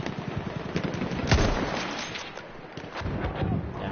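Rapid gunfire in the World War I shooter game Battlefield 1, dense overlapping shots and bursts sounding continuously and fairly loud with no talking.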